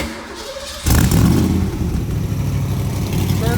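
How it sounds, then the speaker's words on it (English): A fuel-injected Factory Five Racing Shelby Cobra MK II replica with a low-mileage motor cranks and fires up abruptly, settling into a loud, rumbling, lumpy idle close by. "I'm gonna fire it up and let you hear it."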